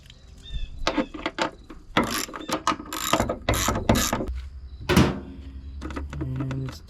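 Ratchet tightening 10mm bolts on a car fender bracket of a 4th-gen Pontiac Trans Am or Chevrolet Camaro, heard as bursts of close clicking and clattering mechanism noise with short pauses between strokes.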